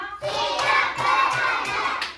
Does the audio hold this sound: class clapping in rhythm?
yes